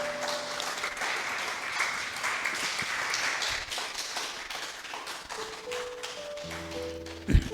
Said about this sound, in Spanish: Denle un fuerte aplauso a Dios por esto.